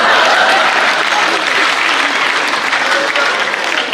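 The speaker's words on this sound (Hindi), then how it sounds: "उसे पता था पटेल जी पे ताली आएगी" Audience applause fills a Hindi comedy poetry gathering (hasya kavi sammelan), steady, dense clapping from a large crowd that stays loud throughout without a break.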